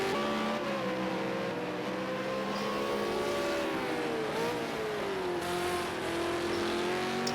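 V8 Supercars howling around Ruapuna Park in a racing video game, several engines rising and falling in pitch through gear changes, one loud and near with others behind it.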